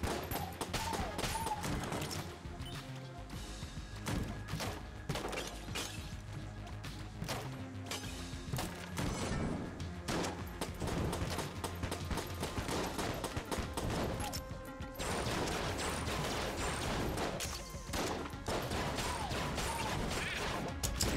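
Rapid, continuous bursts of video-game gunfire from a boss-rush mode, with crashing impacts and explosions, loud and dense throughout with barely a pause.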